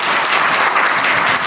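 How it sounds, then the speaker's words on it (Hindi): Sustained audience applause at a Seva Bharati Jharkhand Seva Sarathi training camp, steady and fairly loud throughout, a dense wash of many hands clapping together as a speaker is welcomed. "हम लोग सभी इनके लिए एक जोरदार ताली से इनका स्वागत कीजिए"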